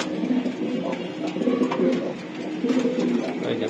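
Racing pigeons coo steadily in a loft, several birds overlapping in low, rolling calls that swell and fade close by without pause.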